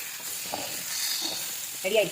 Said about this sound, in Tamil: கத்திரிக்காய் வறுவல் அது ரெடி ஆகிட்டே இருக்குது